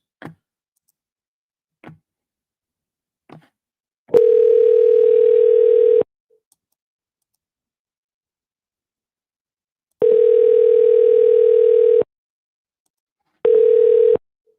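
Telephone ringback tone on an outgoing call, after a few faint dialing clicks: three steady electronic tone bursts, two long and one cut short, with silence between them and no talking.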